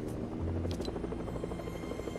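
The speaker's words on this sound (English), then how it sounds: "There's a helicopter." Helicopter in the Fortnite video game, a steady droning rotor buzz that holds continuously and fairly loud throughout, with no voices.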